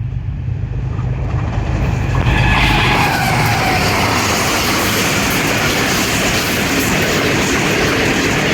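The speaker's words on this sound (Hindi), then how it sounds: "तो थ्रू पास एक्शन दिखाते हैं जी आपको 7 अप तेज़गाम का।" The Tezgam express thunders through a railway station: a loud, continuous roar of rolling wheels and rattling carriages builds after a couple of seconds and stays heavy and close to the end.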